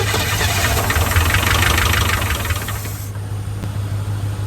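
Neglected 1981 Chevy K10 truck engine running rough, a steady close idle with knocking, uneven chugging that thins out partway through, no voices.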